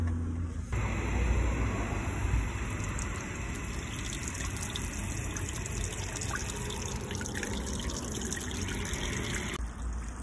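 Grey water from a camper van's shower and sink tanks gushes out through a mechanical ball valve, a steady pouring splash that starts abruptly, runs for about nine seconds, then cuts off.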